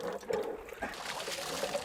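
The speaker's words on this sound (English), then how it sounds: "마중물을 넣고 펌프질하면" Priming water trickles and pours into an old hand-operated well pump in a narrow village alley, a soft continuous liquid gurgle heard close with faint background voices.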